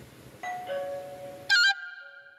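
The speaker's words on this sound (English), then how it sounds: "it will only sound the usual doorbell tone during daytime" Xiaomi Smart Home Hub 2 sounding its doorbell chime when a window sensor is opened: a two-note ding-dong followed by a brighter, louder ringing tone that decays, alone in a quiet room.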